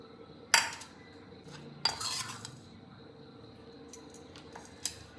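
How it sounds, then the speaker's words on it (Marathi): A spoon stirs chicken with biryani masala in a bowl, giving a few sharp metallic clinks and scrapes separated by quiet pauses. "हे सगळं मिक्स करून घेते।"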